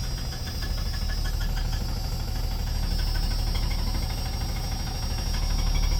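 A 1993 Jeep Cherokee engine runs steadily with a rough, rattling exhaust, a constant close mechanical clatter and hiss over a low rumble, without pause and with no voices.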